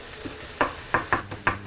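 Onion browning in a frying pan for traditional Polish braised cabbage, with flour about to go in; a few distinct spoon-scraping stirs over a low, steady sizzle, close up and with no talking.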